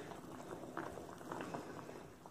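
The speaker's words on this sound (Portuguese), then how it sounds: "depois de 5 minutinhos fervendo fechado, a gente vai destampar a panela" Pears simmering in syrup inside a covered pot give a steady, close bubbling boil with soft popping and gurgling that continues throughout, with no talking.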